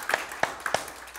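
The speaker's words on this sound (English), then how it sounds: "Let's give him a hand clap." Church congregation giving a scattered hand clap: a few distinct, sharp claps spaced unevenly over a second, moderately close and not very loud.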